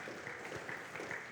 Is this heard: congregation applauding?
yes